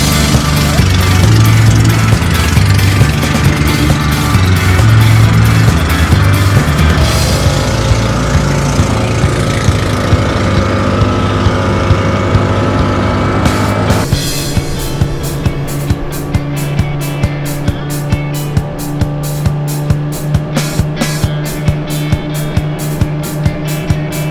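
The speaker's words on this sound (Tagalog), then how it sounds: "Malaki lang speedboat yung sasakyan natin dito." A large speedboat running three engines drones loudly and continuously with a rough, pulsing roar, shifting partway through to a harder, more rhythmic thrumming as the boat travels, with no talking heard.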